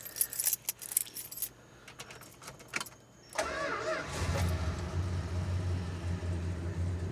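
Keys jangle in a quick, bright rattling burst, close and fairly loud, on a 1966 Chrysler Newport, followed by the car's engine starting and settling into a steady idle.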